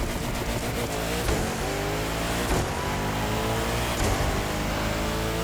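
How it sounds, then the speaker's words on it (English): Several Koenigsegg Agera R supercars racing in the video game The Crew, their engines roaring loudly and steadily at high revs, with brief shifts and surges in pitch and no talk. "Racing against a bunch of other Koenigsegg's."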